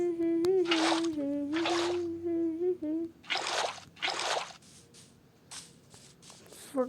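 Water being placed in Minecraft makes several short splashy bursts in quick succession, moderately close, while a voice hums and talks lightly between them.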